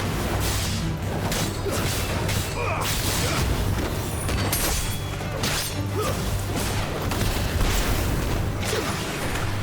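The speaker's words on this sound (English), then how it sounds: "I don't exactly know what that big flame explosion was" A big flame explosion in the video game Final Fantasy XVI, a dense, loud burst of crashing, booming combat noise that holds steady throughout with swooshes and impacts layered over a low hum.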